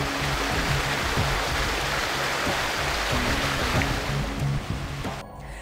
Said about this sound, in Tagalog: Ito ang ilog na kailangang daanan ng mga estudyante para marating ang susunod na barangay